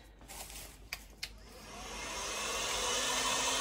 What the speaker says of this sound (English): Now I'm gonna get the heat gun again.